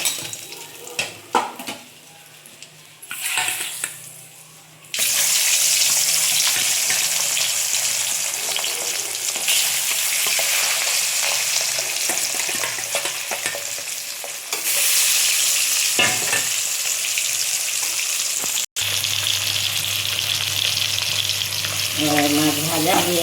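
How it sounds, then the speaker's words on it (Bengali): Fesa anchovy fish fry in hot oil. After a few quiet seconds of utensil clinks, a loud, continuous sizzle starts, broken now and then by stirring and the scrape of a pan. "মাছ ভাজা হয়ে গেল।"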